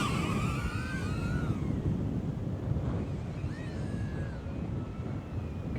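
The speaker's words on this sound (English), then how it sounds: "See how windy this is." Strong outdoor wind buffeting the microphone, a continuous loud roar with low rumbling gusts, while a small drone's motor whines rise and fall faintly through it.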